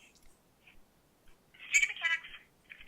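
A telephone ringing faintly through a speaker, one warbling electronic ring burst in an otherwise quiet room.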